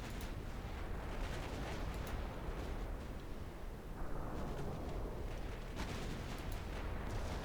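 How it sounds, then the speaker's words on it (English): Simulated 1955 battleship guns fire on an enemy destroyer in a naval strategy game, a continuous dense rumble of overlapping booming shots and blasts, fairly quiet and without breaks. "the enemy DD has already gotten close enough to start taking fire from the battleships"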